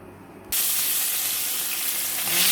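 Magur fish pieces drop into hot oil after a quiet half-second, and a sudden loud sizzle bursts up and then holds steady and close until the end, with no talking.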